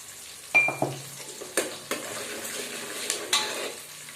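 Ginger garlic paste sizzles in a hot pan, with a spoon scraping and clinking against the metal in several sharp strokes over a steady frying hiss.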